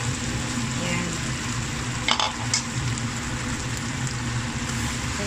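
Tofu with chili peppers sizzles steadily in a pan while being stirred, with a few brief clinks of the utensil over the continuous frying hiss.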